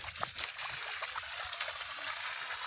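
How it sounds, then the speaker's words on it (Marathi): Water from a solar-powered farm pump pours out in a steady stream, a close, continuous splashing and gurgling rush with no talk over it. "ते पाण्याची धार दाखव ना"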